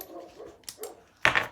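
A dog barks a few times at a distance, with a couple of short sharp yaps followed by a louder, fuller bark, heard during a break from work on a Suffolk Punch lawnmower.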